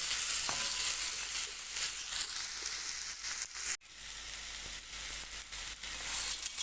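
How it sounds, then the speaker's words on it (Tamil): Onions, small shallot-type, sautéing in a pan for a pepper chicken dish, giving a steady close sizzle and crackle with a brief stirring break partway through. "வெங்காயம் நல்லா கோல்டன் ப்ரௌன் ஆகிற வரைக்கும் வதக்கிக்கலாம்."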